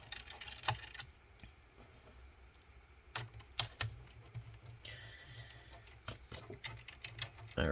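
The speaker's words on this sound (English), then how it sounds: "remove those 4 screws." Small screws are removed from the underside of a Dell XPS L502X laptop, heard as close, quiet clicks and ticks in irregular bursts with short scraping rattles between them.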